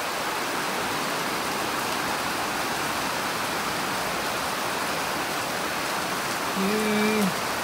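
Heavy pouring rain falls steadily in Bocas del Toro, Panama, a dense, constant hiss near the microphone that holds unbroken for the whole stretch, with a faint tonal chirp near the end.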